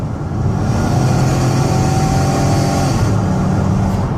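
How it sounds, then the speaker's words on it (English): A 2016 Dodge Caravan SE wheelchair van accelerates hard toward highway speed, its engine droning loud and steady inside the cabin with road noise and a slowly rising tone. "I'll put the pedal to the metal here. I'll see if I can get her up to about 70 miles an hour"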